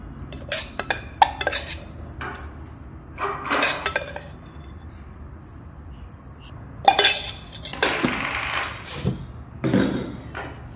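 A spoon clinks and scrapes inside a glass as makhana powder is mixed into milk for a toddler, bursts of sharp close tapping and stirring separated by quiet pauses.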